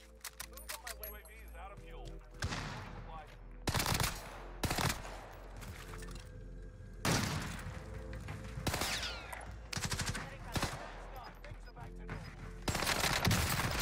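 Tommy gun fire in Warzone on Rebirth Island comes in repeated loud, close bursts of rapid automatic shots, broken by brief pauses, with gameplay noise between volleys.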